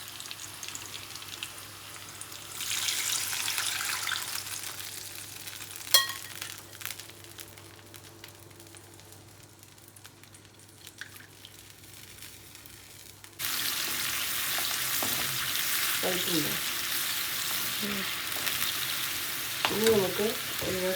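Tamarind juice from wood tamarind is poured into a sizzling pan of kanthari chilli and garlic pickle mixture, a loud frying hiss with stirring that rises sharply partway through and continues steadily.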